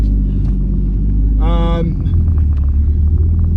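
A car with a newly rebuilt Cosworth engine drives at night in near rush-hour traffic during a clutch test, its engine giving a steady low rumble throughout, with a brief voice-like tone in the middle.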